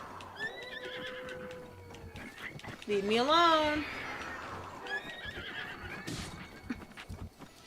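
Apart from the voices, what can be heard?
horse neighing in video game Zelda Breath of the Wild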